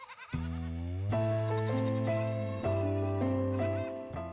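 A goat bleats loudly and close by at a livestock market during Eid al-Adha, a long wavering cry followed by shorter repeated bleats, with no talking.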